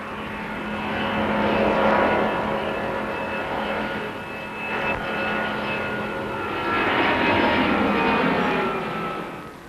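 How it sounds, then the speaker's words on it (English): An Airbus A310 widebody airliner lifts off on its first flight. The jet engine roar is broad and loud, swelling and easing as it passes, with steady tonal whine lines running through it and no voices. "The A310 lifts off into its element."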